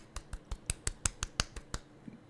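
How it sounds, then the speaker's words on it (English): About ten quick, sharp claps come in an even rhythm, close and fairly crisp, followed by a faint final tap. There is no talk. "That was me clapping."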